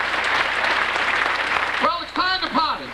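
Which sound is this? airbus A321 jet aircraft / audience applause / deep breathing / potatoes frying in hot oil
audience applause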